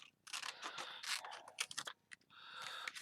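Scissors cutting craft material, with crisp snipping and scraping strokes in bursts separated by brief pauses.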